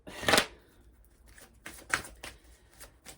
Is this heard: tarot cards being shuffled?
yes